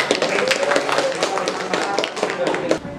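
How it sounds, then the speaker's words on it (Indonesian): Dense clapping fills a room as a group applauds the best team at a school award ceremony, with a voice speaking over the claps throughout. "Tepuk tangan sekali lagi."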